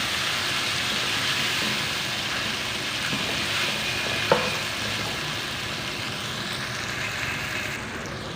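Tomatoes frying in a pan with garlic-ginger paste give a steady, dense sizzle that holds at an even level throughout, with a brief sharp clink of a utensil midway and no talking.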